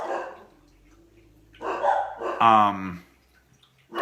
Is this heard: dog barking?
yes